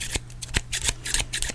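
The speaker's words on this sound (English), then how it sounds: "now I think it's ready to start using some scissors." Sharp metal scissors snip hair in quick, crisp cuts during a barber haircut, several close separate snips in an uneven rhythm over a steady low hum.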